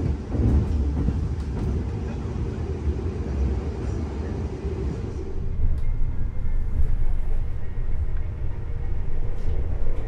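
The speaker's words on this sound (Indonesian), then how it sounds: "kita nikmati perjalanan bersama kereta api Progo di ekonomi terbaru, ekonomi New Generation" Inside the Progo economy New Generation passenger train travelling from Jogja to Jakarta, a deep, steady rolling rumble of wheels and carriage runs continuously, with the tone shifting and rattling a little more midway.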